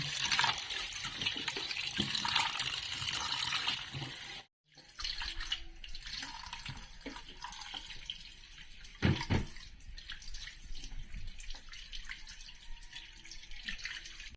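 Tap water runs into a sink while tamban fish are washed by hand, a continuous splashing stream with a brief pause partway, then uneven gushes and drips as the fish are rinsed.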